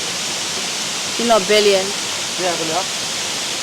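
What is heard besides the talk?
waterfall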